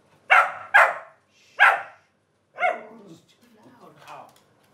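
A dog gives several close, sharp vocalizations, three quick barks followed by softer grumbling whines, heard alone in a quiet room.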